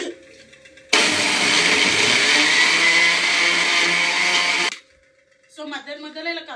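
A kitchen mixer grinder whirs loudly and steadily for several seconds, grinding dried red chillies for a spicy traditional pickle, then stops abruptly before a voice speaks briefly.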